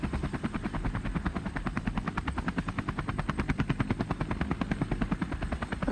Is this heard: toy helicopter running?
yes